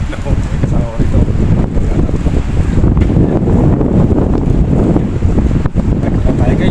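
Strong wind buffets the microphone at a seaside hand-line fishing spot, a continuous loud low roar with a voice faintly underneath.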